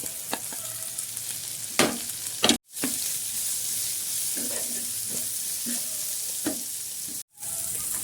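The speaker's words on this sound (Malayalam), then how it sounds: "ഇനി ഞാൻ നമ്മൾ ചതച്ച് വെച്ചിരിക്കുന്ന മുളകും കൂടി ഒന്ന് ഇട്ട് കൊടുക്കുവാണേ ആ കറിവേപ്പിലയും കൂടി" Crushed chili and curry leaves hit hot oil in a pan for a dry prawn fry, giving a steady close sizzle with a few sharp stirring clatters and two brief drops to silence.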